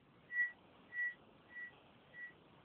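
A FAU-1 metal detector gives four evenly spaced steady whistle-like signal tones, the first two stronger and the last two fainter, over a low hiss with no talking.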